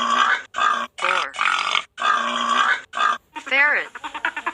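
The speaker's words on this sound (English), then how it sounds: "Boar." A wild boar grunting and squealing up close: a series of loud, rough grunts in uneven bursts separated by short gaps, ending in quicker, softer snorts.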